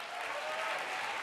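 Audience applause at the Geneva sports awards night, greeting the jury president: a dense, steady wash of clapping throughout, with no talk over it.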